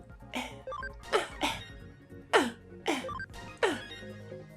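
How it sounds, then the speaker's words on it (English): A person coughing five times, in short separate bursts spread out evenly, close and fairly clear, with nothing else sounding. "Do your cough."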